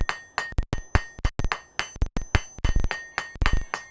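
A hammer striking hot metal in a smithy to straighten it, a rapid series of sharp, ringing metallic blows, loud and close, with brief irregular pauses and no talk.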